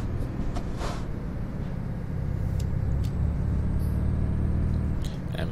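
A Volvo truck engine rumbles steadily from inside the cab while downshifting, a continuous low drone with a few faint clicks and a brief higher whine over it.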